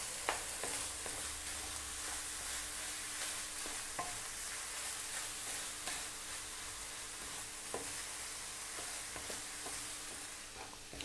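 Ground beef for Filipino spaghetti meat sauce sautéing in a pan, a steady broadband sizzle with scattered clicks and scrapes of stirring throughout, close and continuous with no talking.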